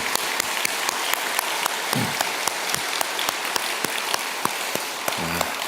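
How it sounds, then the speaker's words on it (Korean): A church congregation at an early-morning service applauds warmly, with crisp individual claps standing out over a softer bed of clapping throughout, and brief voices murmuring in between. "뜨거운 박수로 다시 한번 축복하겠습니다."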